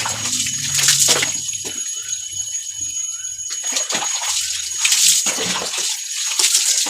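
Water runs and splashes during a bath at home, with hissing bursts of spray, sloshing and dripping between them. It sounds close and moderately loud, with a few faint sounds in the background.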